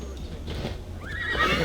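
A horse in Assassin's Creed Valhalla lets out a loud, close whinny alongside hoof clip-clops, the neigh rising sharply near the end of the short burst.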